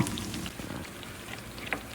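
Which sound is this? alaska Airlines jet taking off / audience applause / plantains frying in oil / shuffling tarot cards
plantains frying in oil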